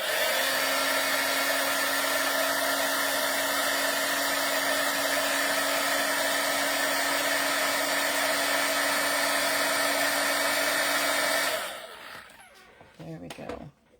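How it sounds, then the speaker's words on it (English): A heat gun blows steadily for embossing on a paper note card, a loud constant whooshing hum held close for about eleven seconds before cutting off, followed by faint handling sounds. "You need a heat gun and just to make the magic happen."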